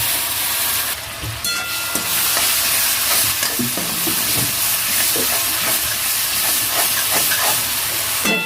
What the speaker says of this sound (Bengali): দেবো পেঁয়াজ বাটা